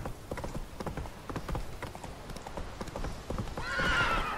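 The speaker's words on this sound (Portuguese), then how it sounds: "Olha o cavalo bugado." Hooves clip-clop in a steady trotting rhythm in The Witcher 3, ending in a clear neigh near the close, with a voice faintly in the background.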